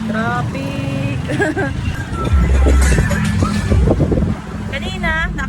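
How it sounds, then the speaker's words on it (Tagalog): Road traffic rolls past on a village road at dusk during a walk, vehicle noise and rushing wind mixed under close conversational voices. "Traffic!"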